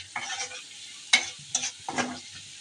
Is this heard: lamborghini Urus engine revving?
no